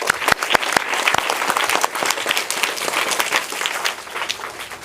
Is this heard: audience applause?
yes